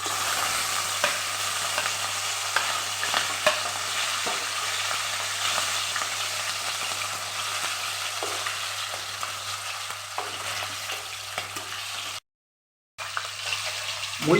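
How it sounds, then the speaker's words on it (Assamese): Borali fish heads frying in hot mustard oil with turmeric, a dense continuous sizzle with occasional stirring scrapes, close up; a brief dropout near the end. "এতিয়া আমি মাছখিনি ফ্ৰাই কৰিম।"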